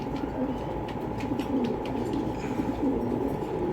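Pigeons coo in soft repeated low calls close by, a steady throaty murmur with a few faint higher chirps overhead.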